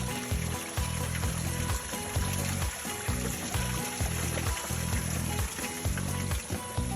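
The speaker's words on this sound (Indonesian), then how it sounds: "Ya ini air terjun guys. Lihat guys. Air melimpah." Water rushes and splashes steadily at a waterfall along the Jatipasir river-valley trail on Mount Raung, a continuous close roar of abundant flowing water with rhythmic low pulsing underneath.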